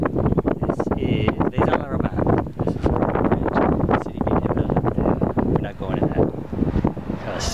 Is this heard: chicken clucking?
no